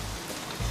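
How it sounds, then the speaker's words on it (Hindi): Heavy rain falling, a brief dense hiss of drops that fills the moment at steady loudness with no voices. "यहाँ इतनी बरसात हो रही है"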